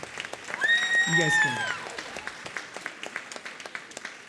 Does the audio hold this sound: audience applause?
yes